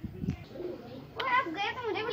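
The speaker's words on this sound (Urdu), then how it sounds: "یہ تو بریڈر کبوتر ہے، بڑی گٹکیاں گٹکیاں لے رہا ہے" A breeder pigeon coos in a cage, a low gurgling burst at the start followed by a louder, repeated throaty cooing close by, with faint background sounds between.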